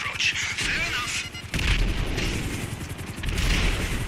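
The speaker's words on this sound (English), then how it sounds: "I deduce from the sound of gunfire that you have not gone for the stealthy approach" Gunfire in GTA 5 Online at Cayo Perico, with repeated loud booming shots and bursts over a constant game soundscape, mixed with voices.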